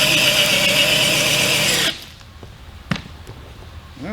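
A Worksite 20V cordless drill drives a screw with a loud, steady motor whine that cuts off sharply partway through. A few faint clicks and a knock follow in quieter space.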